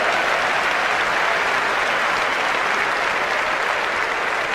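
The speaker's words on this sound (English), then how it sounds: "Give her a round of applause" A large audience at a motivational speaking event breaks into loud, sustained applause, a dense, steady wash of clapping that fills the whole stretch with no voices over it.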